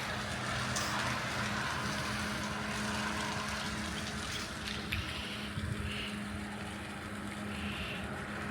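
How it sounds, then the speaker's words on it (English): Steady broadband rush of water pouring from a pipe outdoors, continuous and fairly close, with a low rumble underneath and no talking. "pouring out water down there."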